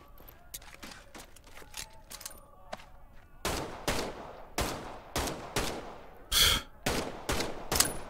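Gunfire in the video game Medal of Honor: Above and Beyond, a run of sharp, loud shots spaced roughly half a second apart, with fainter clicks and mechanical rattles before the shooting begins.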